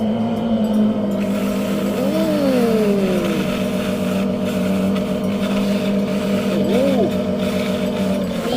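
Go-kart engine droning loud and close as the kart drives, with rising and falling pitch swoops as it revs and a tire squeal, while people talk over it.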